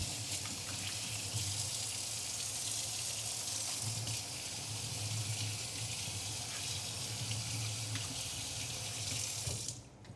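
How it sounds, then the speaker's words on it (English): Tap water runs steadily into a sink while hands are rinsed, a constant close gushing hiss that cuts off abruptly at the very end. "Let me rinse my hands"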